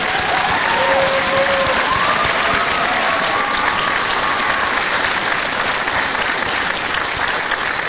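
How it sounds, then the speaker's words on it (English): An audience at a school band concert gives a teacher a long, full round of applause: dense, even clapping from many hands that fills the room without a break. "Let's give her a big round of applause."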